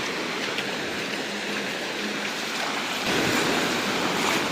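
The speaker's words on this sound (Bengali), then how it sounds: "ভাই ঢেউ দেখো, ওখান থেকে আসছে ঢেউটা" Sea waves break on the shore at Mandarmani beach in a continuous broad roar with wind noise. The surge swells louder near the end as a wave comes in.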